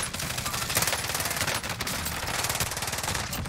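A light machine gun fires sustained rapid bursts in Call of Duty Cold War Warzone, a dense, loud rattle of gunfire running unbroken throughout.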